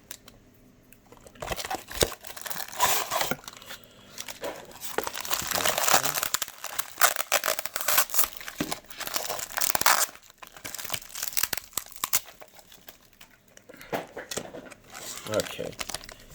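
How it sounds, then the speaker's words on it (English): Stickers peeled out of a Beyblade B-176 Random Booster vol. 23 pack, crinkling and rustling close up in irregular bursts of paper and plastic handling that rise and fall over several seconds. "Let's take these stickers out."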